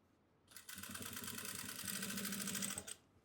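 A sewing machine stitching a petticoat runs in one continuous burst of about two seconds, a fast, even mechanical whir with rapid needle ticking that starts and stops abruptly, close up, with no talking.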